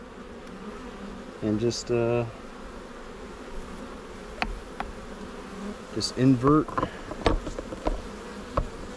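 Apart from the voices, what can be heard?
honey bee swarm buzzing in a trap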